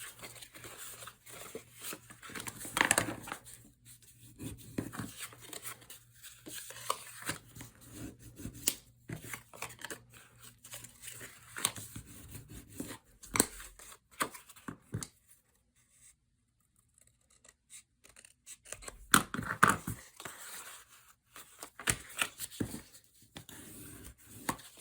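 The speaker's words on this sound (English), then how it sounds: "take your scissors and trim it away" Scissors trimming a paper Christmas tea party tag, with scattered quiet snips and paper rustles spread across a mostly hushed stretch, and several clearer cuts standing out.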